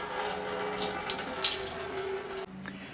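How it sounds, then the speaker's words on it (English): Engine coolant drains from the radiator drain plug of a 2004-2008 Acura TL into a catch can, making a steady, close pouring and splashing of liquid that drops off near the end. "Go ahead and drain your cooling system."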